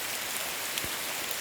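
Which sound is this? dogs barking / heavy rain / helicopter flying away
heavy rain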